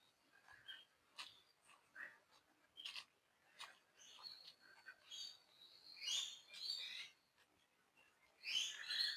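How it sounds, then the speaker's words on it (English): Lorikeets, parakeets and rosellas chirp and call in clear outdoor air near Witches Falls, a busy scatter of bright, fairly close tweets and squawks with no talking. "there's a couple of lorikeets, I think a couple of parakeets as well, some rosellas"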